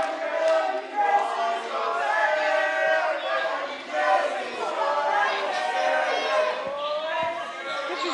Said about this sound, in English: I'm gonna let the crowd speak for a bit.